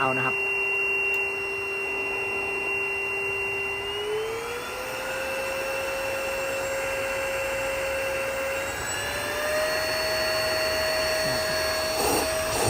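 A Simplus LW-S2001A1 cordless vacuum cleaner runs continuously with a steady motor whine that steps up in pitch twice as its power setting is raised.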